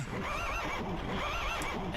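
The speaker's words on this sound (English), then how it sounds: "those are some of the weirdest horses you could ask for" Horses neigh in The Legend of Dragoon video game, with a wavering, high whinny that rises and falls across two seconds over a dense, steady game soundtrack.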